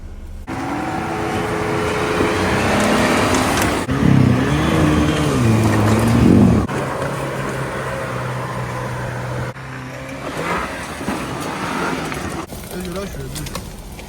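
Car engines hum and rev as vehicles drive along a dirt road through forest, with shifting motor tones and a few bird-like sounds mixed in nearby.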